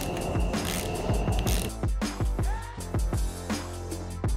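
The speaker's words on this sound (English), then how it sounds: "then we'll torque these 10 mil bolts to 84 inch pounds" Ratchet torquing 10 mm bolts on a Bridgeport machine build, giving a steady run of rapid mechanical clicks and metallic clatter that stays loud and close throughout with no talk.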